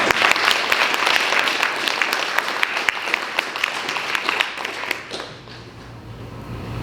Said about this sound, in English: Let's give a round of applause to all the elected officials here today who are pushing for climate action.